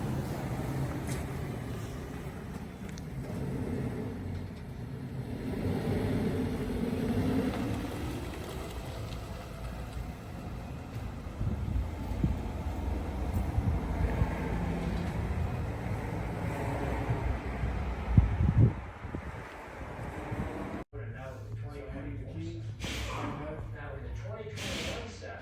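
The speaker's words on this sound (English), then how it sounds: "Tires are very loud now." Road roar from BFGoodrich KO3 tires on a moving vehicle, a broad, constant low rumble and hiss running under a voice before an abrupt shift near the end.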